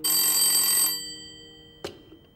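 A telephone bell rings loudly once for about a second, then stops, followed by a brief click like a receiver being lifted, in a Republic-era Chinese drama household.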